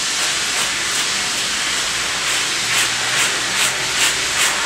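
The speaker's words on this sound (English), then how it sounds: "Now, watch the mats simply brush right out." A dematting brush works through the matted coat of a Wheaten terrier, giving a steady hissing rub with rhythmic louder strokes repeating near and close.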